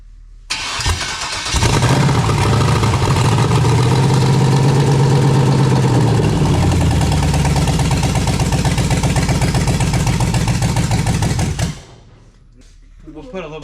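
A 1954 Chevy 3100 pickup's newly fitted engine cranks and catches, then runs steadily and loudly for about ten seconds, close by, before it cuts out and quiets.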